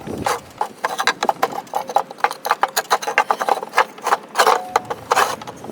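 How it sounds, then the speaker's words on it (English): A lawn mower blade bolt is worked loose with a wrench while a wood block jams the blade: a quick run of sharp, close ratcheting clicks and metallic taps at an uneven rhythm. "We'll go ahead and remove this bolt here."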